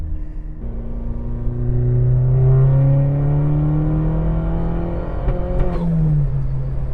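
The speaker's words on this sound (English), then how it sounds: "It sounds like a very healthy car." A Chevrolet Cobalt engine with 125K miles revs up, its pitch climbing steadily and holding high, then dropping with a brief misfire sputter near the end; loud and close, no talking.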